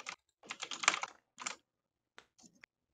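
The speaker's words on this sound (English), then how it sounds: "I hit the print button on my keyboard" Several quick bursts of keyboard typing come close and clear, a cluster of rapid clicks followed by a short gap, then a few scattered single keystrokes, with no voices.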